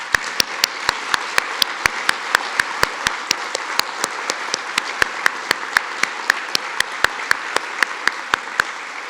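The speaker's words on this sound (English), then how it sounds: "Let's give them a round of applause." Steady rhythmic clapping at a September 11 memorial ceremony greets visiting New York firefighters, with sharp, evenly spaced claps over a soft crowd murmur.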